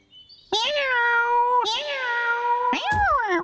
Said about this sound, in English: Meow. Jess? Where are you? Meow. Meow.